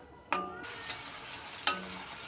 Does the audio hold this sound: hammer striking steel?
no